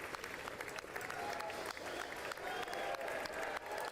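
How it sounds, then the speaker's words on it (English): Audience clapping during a President Trump speech, heard as a steady wash of scattered applause at moderate level, with some faint voices mixed in underneath. "I hear some clapping. They're clapping for us."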